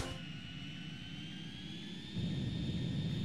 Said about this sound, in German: Mit meiner neuen MiG-29.